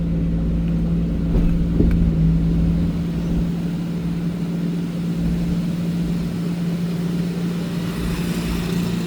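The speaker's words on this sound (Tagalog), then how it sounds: "dump truck" A dump truck rolls along a road in an accident-prone area, giving a steady, loud low engine drone and road rumble that holds throughout with no clear pass-by peak.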